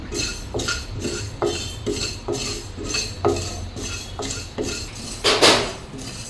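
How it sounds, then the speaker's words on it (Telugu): Mustard seeds and spices dry-roasting in a pan, a spoon scraping and clinking against the metal in steady repeated strokes, close and fairly loud, with no talking. "ఈ మూడు కలిపి ఎర్రగా దోరగా వేయించుకోవాలన్నమాట"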